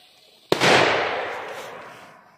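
A Spanish-made Elgato firecracker explodes outdoors in one sharp loud bang after a quiet moment, followed by a long fading rumble and echo.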